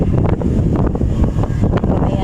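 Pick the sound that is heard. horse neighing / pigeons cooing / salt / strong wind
strong wind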